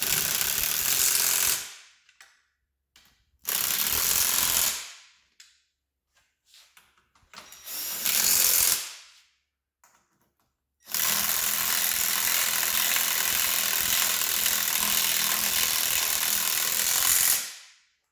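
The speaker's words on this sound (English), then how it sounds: "Tighten down our metric bolts." A ratchet wrench tightens metric bolts on a mower in a series of fast, loud clicking bursts, four or so short runs separated by pauses, the last one long and steady.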